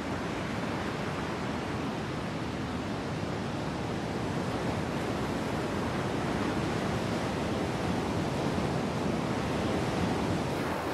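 Sea waves wash steadily onto a white sand beach, a continuous dense surf roar with wind noise mixed in, unbroken and fairly loud throughout.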